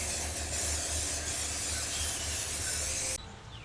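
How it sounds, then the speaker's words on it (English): An aerosol can of mold release sprays steadily for about three seconds into a silicone rubber mold for a model race boat, a broad, loud hiss that cuts off sharply. "I have to spray mold release on the whole inside of it"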